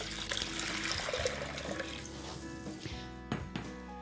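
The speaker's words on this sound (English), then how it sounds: "and then add our water" Water is poured into a crock pot for slow-cooked breakfast barley, a steady close splashing fill under faint kitchen sounds, ending with a couple of soft clunks.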